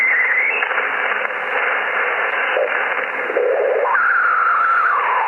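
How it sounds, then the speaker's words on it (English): Shortwave radio reception through a mini-whip antenna, a loud continuous hiss of static with crackling crashes and a wavering tone sliding up and down through the noise, band-limited and harsh, with no talking. "So lots of static crashes."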